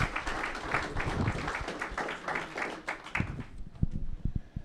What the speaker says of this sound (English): who really deserves a round of applause